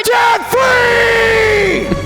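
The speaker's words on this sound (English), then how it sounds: "Let's hear a debt-free scream." A couple who just paid off $51,526 of debt in 15 months lets out a loud, sustained celebratory scream together, two long yelling bursts with a brief break, close and powerful, ending in a falling wail.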